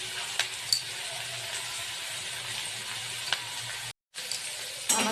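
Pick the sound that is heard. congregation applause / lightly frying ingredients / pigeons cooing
lightly frying ingredients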